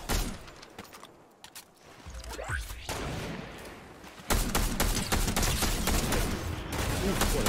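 Gunshots in Fortnite no-build squads, scattered shots and impacts early on, then dense loud firing that starts abruptly and continues without a break to the end.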